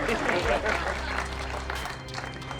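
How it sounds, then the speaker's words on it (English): A magic show audience applauds steadily, with dense clapping and cheering, and voices underneath. A low hum runs beneath the noise for most of the stretch. "give them a big round of applause for helping out up here"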